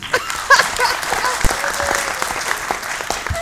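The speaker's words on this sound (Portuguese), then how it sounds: "Aplausos pra racha um" A theatre audience at a Sr & Sra Smile show applauds for team one, a loud burst of many hands clapping with some crowd noise and a voice briefly over it.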